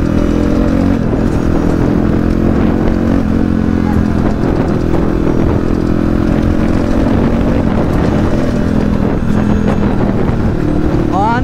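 A loud, continuous motorcycle engine rumbles as the rider's own bike is ridden again after four or five months around the Chunikhel area, with wind buffeting the microphone and occasional talk.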